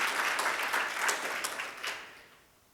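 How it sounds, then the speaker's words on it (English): Audience applause at a business meeting, a brief round of clapping that swells and then fades away over a few seconds with no talking. "So I'd like to have a round of applause for Margaret."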